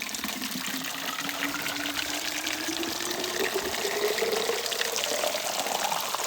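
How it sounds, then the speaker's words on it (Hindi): Continuous splashing flow of natural spring water pouring from a source in the Mussoorie forest, steady and close, with a faint rising tone as it fills, no voices. "यहाँ से ये पानी आ रहा है"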